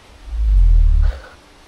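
A single deep, booming low rumble from a cassowary swells for about a second, then cuts off, loud and close.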